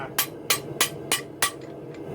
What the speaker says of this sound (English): you don't want to use too heavy a hammer